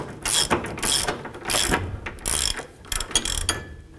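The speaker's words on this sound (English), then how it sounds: "I'm going to go ahead and just snug up these bolts." A ratchet snugs up control arm bolts on a Jeep Liberty, a close series of rapid clicking bursts in an uneven rhythm with short gaps between strokes.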